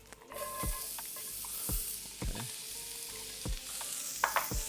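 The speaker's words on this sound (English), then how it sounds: "Now that that's nice and hot, and go ahead and brown those onion up." Onions browning in olive oil in a hot pan, a continuous bright sizzle with rhythmic scraping stirs and small spatters, loud and close with no voices.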